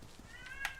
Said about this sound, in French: On libère le chat.